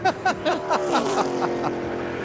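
Denny Hamlin's NASCAR race car running alone on track during 2014 Geico 500 qualifying, a loud engine drone with rapid pulsing and falling pitch sweeps as it passes.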